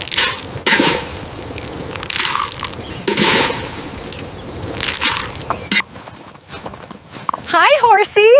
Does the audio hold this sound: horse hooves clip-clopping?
yes